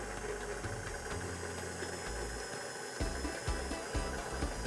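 An electric mixer whisks butter and icing sugar for Greek almond shortbread, making a steady mechanical whir with uneven low thumps of the whisk in the bowl. It is fairly quiet and plays alone.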